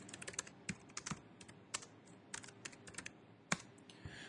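Someone types a command into a console on a computer keyboard, uneven bursts of crisp keystrokes with short pauses and one louder key press, close by and with no talk.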